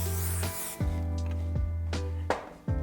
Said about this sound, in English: And we're going to hairspray it.